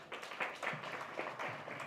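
An audience at a strategy launch event claps in a short, thin burst of applause, fairly faint and distant, with uneven individual claps audible throughout.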